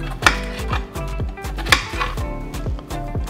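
A knife chopping potatoes into chunks on a cutting board, a steady series of sharp close knocks with a couple of louder strikes, no talking.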